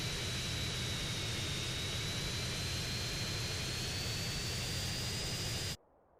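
A jet aircraft engine in GTA San Andreas roars loud and steady, a broad rushing drone with a faint high whine, before cutting off abruptly into near silence.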